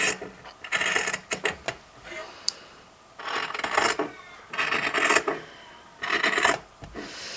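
Scissors cutting through folded calico fabric for a junk journal spine, giving several bursts of rasping snips and slides separated by short pauses, close and clear with no talking.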